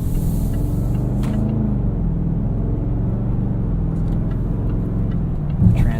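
A 2018 supercharged V8 Range Rover Sport runs with a steady low rumble and hum from inside the cabin, its engine note settling and changing as the stop-start system works, with a faint thump near the end.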